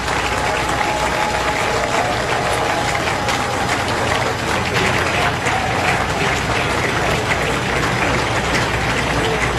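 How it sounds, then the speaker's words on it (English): A large audience claps continuously at an under-17 Cameroon versus Ivory Coast football event, a dense, steady wash of applause that holds at an even level throughout. "Je vous prie d'applaudir très très fort."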